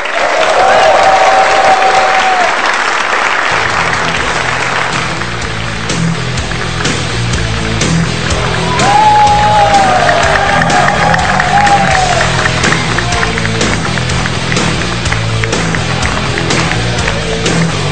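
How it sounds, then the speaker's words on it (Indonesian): A television studio audience applauds steadily and loudly throughout, with some cheering, welcoming a presidential hopeful onto an evening talk show. "Boleh tepuk tangan sekali lagi dong Pak Jokowi."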